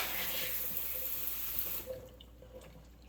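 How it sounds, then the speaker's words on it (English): Tap water runs and splashes as a raw turkey is rinsed under the faucet, a steady close hiss of flowing water that thins and quiets toward the end. "Rinse the inside of that cavity. Rinse the neck. Rinse the back."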